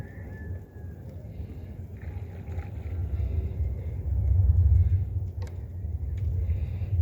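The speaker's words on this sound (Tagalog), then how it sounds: "Makas ng kulog." Thunder rolls low and distant under a cloudy sky at a needlefish fishing spot, a deep rumble that swells midway and then lingers, with faint bird calls above it.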